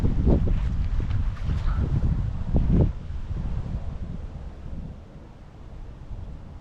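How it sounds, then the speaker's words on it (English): Swirling wind buffets the microphone on an outdoor disc golf course, a loud rumbling roar with gusty surges early on that eases into a softer, steadier rush. "The wind's kind of swirly out there."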